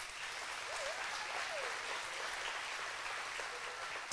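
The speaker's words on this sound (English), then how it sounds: "give him a round of applause for that" A crowd at a school steel band spring concert applauds a player after a piece, a soft, even wash of clapping heard from a distance, steady throughout with faint tonal traces mixed in.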